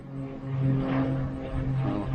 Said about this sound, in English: That's an old plane right there.